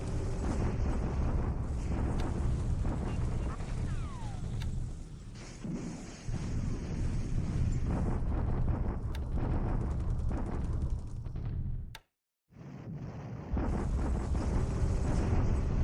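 A dense, continuous rumble of naval bombardment at Padang in the War in the Pacific video game, with heavy explosions blending into a steady roar that drops out briefly before resuming.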